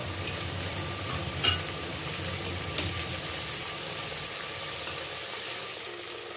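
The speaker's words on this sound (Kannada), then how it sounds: "2 ನಿಮಿಷ ಎಲ್ಲನೂ ಎಣ್ಣೆಯಲ್ಲಿ ಫ್ರೈ ಆಗಬೇಕು" Green peas fry in oil for a fenugreek-leaf pulao, giving a soft, even sizzle. Two brief clicks of a stirring spoon break through early on.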